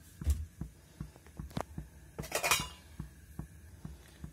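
A pan for boti (goat tripe) fry clanks onto a stovetop, then scattered metallic knocks, taps and a soft pour follow close by in a quiet kitchen with no talking.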